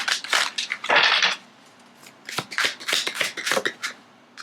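Tarot cards are shuffled for a reading in quick riffling bursts, one long flurry and then a run of shorter crisp shuffles, close up with no talk.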